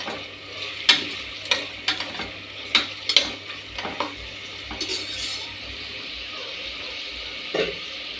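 Pulao ingredients fry and get stirred in a pan, a steady sizzle under scattered sharp scrapes and clinks of a spoon against the metal, close and fairly quiet, with no voices.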